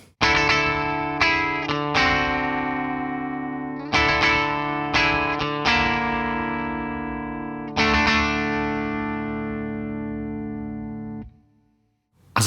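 Electric guitar played through a clean amp channel with the Dirty B Hinds Mastodrive overdrive pedal switched off: ringing chords struck one after another, each sustaining and slowly decaying, the last one fading into silence.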